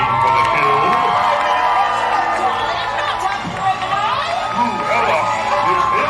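A theme park crowd at Disney's Hollywood Studios cheers and whoops for the villains at an opening-day live villains show, a dense, steady roar of many voices with children's shouts rising throughout.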